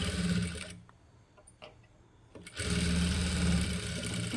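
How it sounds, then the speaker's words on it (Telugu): Sewing machine slowly stitching a satin-lined net sweetheart neckline set with sequins, steady close whirring at the start and again after a quiet gap of a couple of seconds with faint clicks, no speech. "ఈ నెక్కును స్టిచ్ చేస్తున్నాను."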